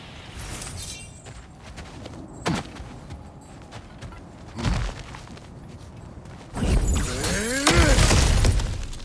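Objects smash and shatter in the God of War Ragnarök video game, with several sharp breaking crashes spaced apart and a louder, longer burst of shattering debris near the end.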